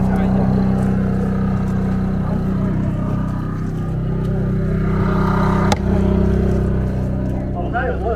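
A generator fitted inside a DIY camper van with its own exhaust pipe runs as a constant, fairly loud engine hum, and people talk over it throughout.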